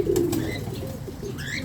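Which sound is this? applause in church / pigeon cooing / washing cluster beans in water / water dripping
pigeon cooing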